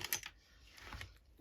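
Small precision scissors snipping paper during a crafting session, a short cluster of crisp clicks at the start followed by fainter, lighter cuts, close by with no talking.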